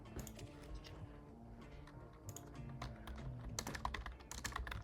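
Quick bursts of tapping on a computer keyboard while notes are typed, close and quiet, with uneven clusters of keystrokes and short pauses between them.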